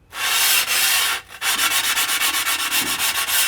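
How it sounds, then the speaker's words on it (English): A QEP sanding block rubs against the chipped edge of a stone shower tile, first in long continuous strokes, then after a brief pause in a quick steady series of short back-and-forth scrapes, close and loud with no talking. "And yes, you can sand stone."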